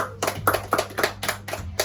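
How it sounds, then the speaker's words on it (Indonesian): A third-grade class at school claps together, about seven distinct, evenly spaced rhythmic claps in quick succession, fairly quiet and close. "Tepuk tangan untuk kita semua"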